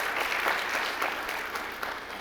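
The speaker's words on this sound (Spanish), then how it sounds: "Recibamos con un fuerte aplauso a nuestros ponentes" Audience applause for the panel speakers at a round-table session of an education conference, steady dense clapping from a crowd throughout, moderately loud with no talk over it.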